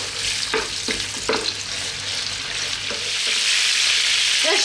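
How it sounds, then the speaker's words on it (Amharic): Goat meat frying in a pan for curry, a steady broad sizzle with a few soft stirring scrapes near the start, continuous and close, with no voices. "ይኸውላችሁ እየተጠበሰ ነው፣ ግን ገና ይቀረዋል ማለት ነው።"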